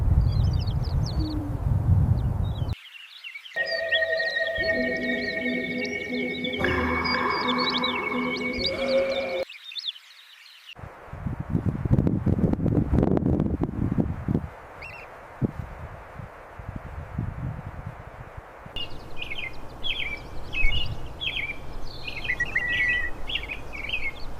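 Repeated high-pitched Eurasian kestrel chick calls begging for food, insistent and chirpy, interleaved with other bird sounds and a stretch of tonal music-like noise.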